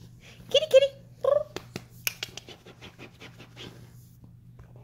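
A house cat near the microphone gives a few short meows, then soft scuffling and scratching taps follow against a steady low electrical hum, with no clear purr standing out.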